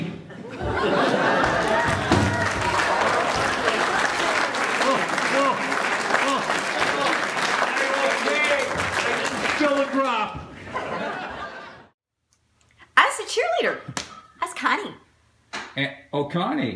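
Audience applause for a performance, steady dense clapping mixed with chuckles and chatter for about ten seconds, then fading out into brief bursts of voices and talk near the end.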